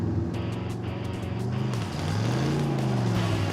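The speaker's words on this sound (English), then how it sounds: "Tire spin." A project car launching from idle roars at high revs with a rising, strained pitch as the tires spin, loud and close, swelling toward the end.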